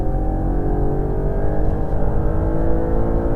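An Audi R8 engine pulls hard on a racing circuit, a steady, loud, continuous drone sustained close up throughout with no break.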